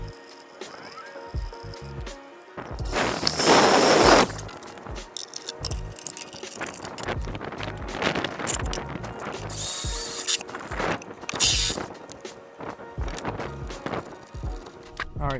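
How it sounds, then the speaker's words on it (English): Work on a car fender: a drill opens a hole, then a riv nut tool sets a riv nut for an NVY composite fender vent on a DC2 Integra, giving a loud whirring burst followed by clicking, ratcheting mechanical sounds up close. "let me open up this hole and get this riv nut installed"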